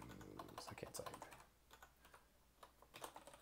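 Quick typing on a computer keyboard, close and quiet, with bursts of rapid key clicks, a short pause, then a few more keystrokes.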